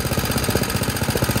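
A Toro Grandstand 48-inch stand-on mower runs close by, its engine throbbing in a fast, even, rapid pulsing beat that stays loud and constant.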